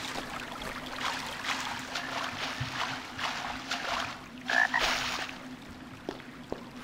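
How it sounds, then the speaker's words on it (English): Frogs croak in the video game Arx Fatalis, a low steady chorus of calls with a faint watery ambience running beneath throughout. "Frogs."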